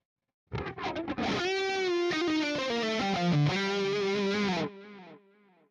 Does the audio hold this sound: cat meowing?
no